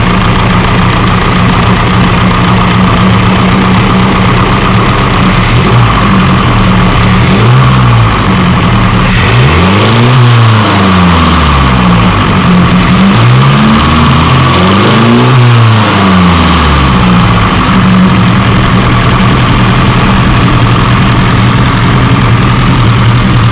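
A classic car engine fitted with an SU carburettor idles steadily, then has its throttle blipped twice, each time rising in a quick rev and falling back, the two revs a few seconds apart and loud and close.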